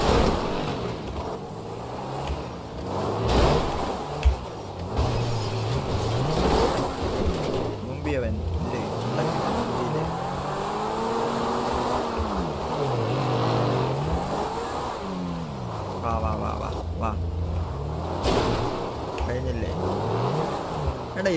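A vehicle driving in a video game, with a steady engine drone that rises and falls as it accelerates and revs. A voice talks over it throughout.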